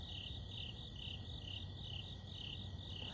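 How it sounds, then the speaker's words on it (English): Crickets chirp at night in a steady, pulsing rhythm, faint and continuous with no other sounds. "I can hear the crickets."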